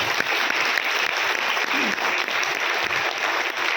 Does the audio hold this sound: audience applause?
yes